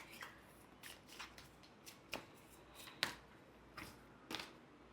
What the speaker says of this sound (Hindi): आप लोग के लिए बहुत कार्ड शफल, ओके, इतने सारे कार्ड्स